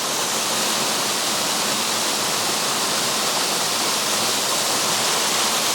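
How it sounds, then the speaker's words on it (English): Secret Falls waterfall pours nearby in a loud, dense, unbroken roar of falling water, constant and close, with no talking. "And there's the falls."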